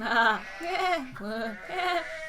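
A voice imitates several sheep bleating inside a cavern, giving three drawn-out, wavering bleats in close succession, loud and near with no other sound around them.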